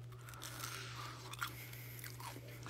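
Someone bites and chews crispy fried fish-shaped bread filled with red bean paste, producing soft, close crunches and chewing sounds over a low steady hum, faint and quiet throughout.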